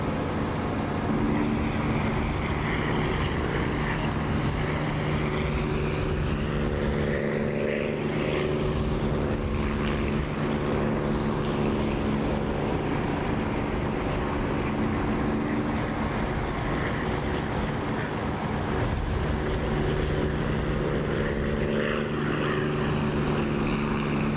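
A propeller aircraft engine in the DCS flight simulator drones steadily and loudly throughout, with a constant low hum and slowly shifting whine, throttle pulled fully back and canopy open, with no talking.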